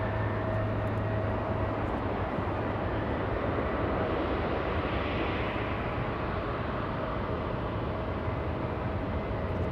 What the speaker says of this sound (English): It's a very late night departure by that A350-1000.